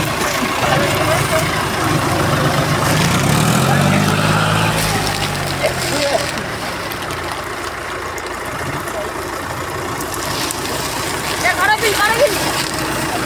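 An Arjun tractor, stuck in a field and being pulled out, runs with a low heavy diesel rumble that swells around the middle and then steadies, while people talk over it nearby.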